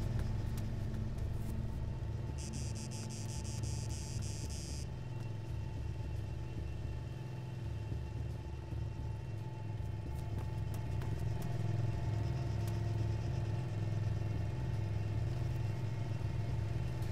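A stolen car's engine runs steadily in the Arma 3 Altis Life video game, a low, constant rumble that holds through the whole stretch with no talk over it.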